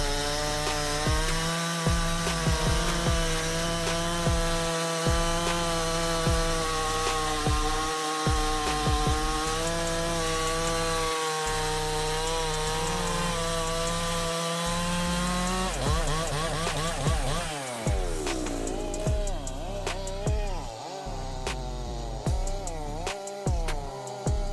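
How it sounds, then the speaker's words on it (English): A heavy-duty chainsaw with a nearly 2-meter bar roars continuously through a log, its loud droning whine broken by regular brief pauses and shifting in pitch as the cut finishes. "This is really a good saw. It only takes about 5 seconds to cut that log."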